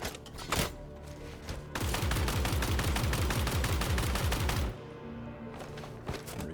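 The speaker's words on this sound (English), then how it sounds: "Pull out my gun, and I have several clips that are partial, so I'm just gonna shoot off and then reload." Rapid automatic gunfire from a handheld weapon in the Star Citizen first-person shooter, with a single shot, then a sustained burst of about three seconds, followed by a few scattered shots, loud and close with no talking.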